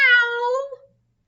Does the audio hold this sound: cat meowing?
yes